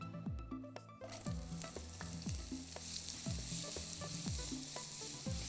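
Chopped small onions frying in a pan for mushroom masala, a steady moderate sizzle with repeated clinks of a utensil stirring against the pan, no talking.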